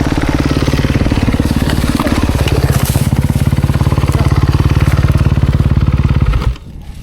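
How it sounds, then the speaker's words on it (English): A Kawasaki KX250X dirt bike rides slowly over rocks and roots on an enduro trail, its engine loud, close and continuous with a steady chugging pulse before it drops away abruptly at the very end. "the rocks and roots and stuff, man, the bike was just skipping everywhere"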